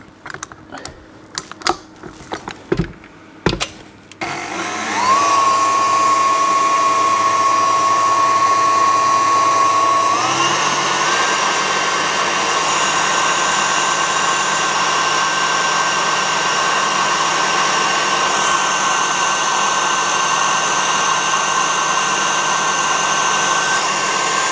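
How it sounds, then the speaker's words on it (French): An electric mixer beating a chocolate-orange dessert mixture, a steady high whirring drone that starts after a few knocks and continues unbroken, shifting pitch slightly midway. "à battre sur le batteur électrique. Jusqu'à refroidissement."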